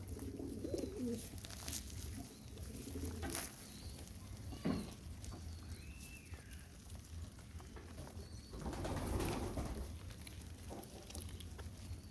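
Pigeons coo faintly at a loft in soft, low, intermittent bursts against a quiet outdoor background, with no talk.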